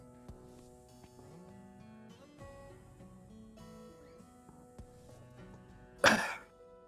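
A single short, awkward cough or throat clearing, abrupt and fairly loud, rising late after several seconds of quiet music and ambience.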